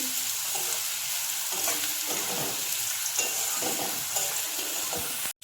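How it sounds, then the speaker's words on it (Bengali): Black cumin seeds and green chillies sputter in hot oil as a tempering, a dense continuous sizzle close up with light stirring and a brief cut near the end. "কালো জিরে আর কাঁচা লঙ্কা ফোড়ন দিয়ে দিয়েছি"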